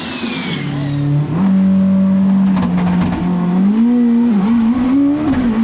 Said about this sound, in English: So let's watch the Flat Fox do what I think is real racing.